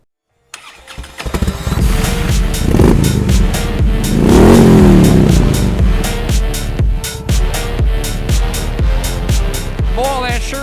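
A Harley-Davidson Sportster Seventy-Two motorcycle engine starts and revs, loud and close, with a steady lumpy idle broken by repeated sharp throttle blips and one longer swelling rev.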